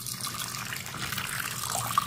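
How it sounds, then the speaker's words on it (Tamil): Water poured into a pressure cooker holding butter beans, a steady faint splashing trickle running continuously and close by, with no talk over it. "இதில் கொஞ்சம் தண்ணி ஊற்றிக்கிடுவோம்"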